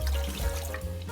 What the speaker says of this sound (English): and add some water